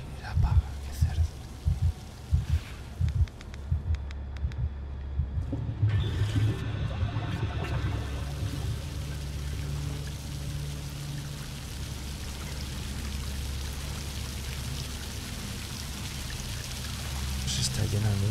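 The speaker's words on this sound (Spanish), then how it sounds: "Se está llenando de agua, ¿no?" Water pouring in and filling a room in the video game A Quiet Place: The Road Ahead, a steady rushing gush that grows fuller and louder, with a low rumble and a voice talking over it.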